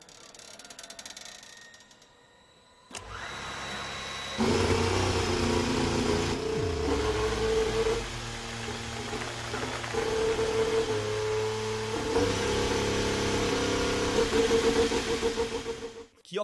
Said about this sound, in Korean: 아스톤 마틴에서 사용하게 될 혼다 엔진의 시동 소리도 들어보겠습니다.